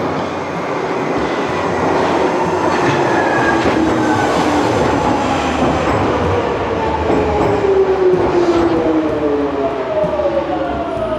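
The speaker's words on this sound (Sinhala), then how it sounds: "ට්‍රේන් කෝච්චියක් එනවා" A London train pulling into a station platform, loud and close, with a steady rumbling roar and high whining tones that slowly glide downward as it slows, sustained throughout.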